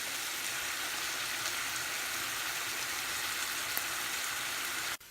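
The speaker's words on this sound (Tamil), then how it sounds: "எண்ணெயில் ஃப்ரை ஆகட்டும்." Pepper chicken frying in oil for a restaurant-style gravy gives a steady, close, hissing sizzle that runs evenly throughout and cuts off abruptly at the end.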